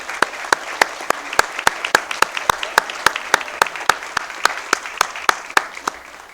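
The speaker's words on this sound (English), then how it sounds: "So how about a big round of applause for all of our award winners so far?" Sparse, rhythmic clapping at a Board of Education meeting honoring award winners, distinct claps in an even beat, close and clear with little else around them.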